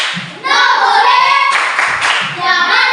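Children in a classroom clap hands in a rhythmic chant-style pattern, loud and close, with young voices mixed in and brief pauses between bursts of clapping.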